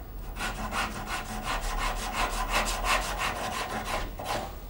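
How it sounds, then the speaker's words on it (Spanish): A wooden peg is sanded square on a sander close up in quick, rhythmic back-and-forth rasping strokes that carry on steadily with no voices. "le vamos a dar simplemente una forma cuadrada en la lijadora"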